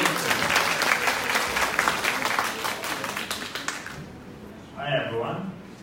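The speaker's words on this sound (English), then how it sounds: "Round of applause." A conference audience gives a warm round of applause for the next speaker, the clapping fading out after about four seconds before a voice begins talking.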